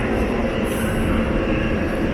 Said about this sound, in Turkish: bir yandan da her yerden trenler geliyor gidiyor